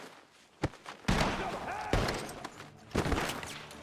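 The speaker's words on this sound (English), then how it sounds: "The gunshots are coming from that barn." Gunshots ring out from inside a barn in Red Dead Redemption 2, a few sharp loud reports spaced over several seconds, with game sounds and some voices around them.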